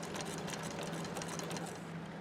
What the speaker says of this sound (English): I'm going to take a couple of stitches,